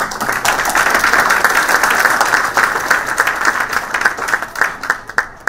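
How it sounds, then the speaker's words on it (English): A loud, dense burst of applause from a luncheon audience at the GLEX 2017 space conference, honouring the Mohammed Bin Rashid Space Centre, thinning into scattered individual claps before stopping. "I ask you to applaud the Mohammed Ben Rashid Space Center"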